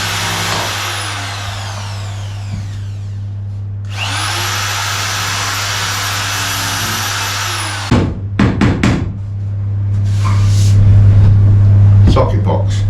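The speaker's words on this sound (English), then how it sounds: "Sand this section here down a little bit, and just give it a little sand over" A power sander runs loud and steady over a section of a boat under rebuild, in two long passes broken by a brief stop, then sharp knocks and a low steady hum while someone talks.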